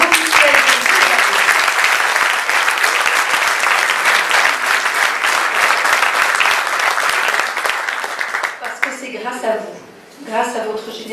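Sustained, loud audience applause at a Lions Club International event in a large hall, dense and continuous for several seconds before thinning out, after which voices come in.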